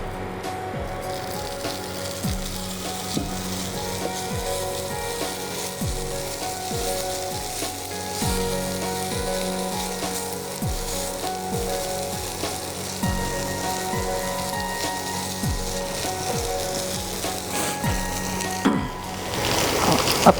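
Potatoes tipped into a hot pan with kasuri methi hiss into a steady, loud sizzle of frying that carries on alone, with occasional light stirring clatter and a sharper spatter toward the end.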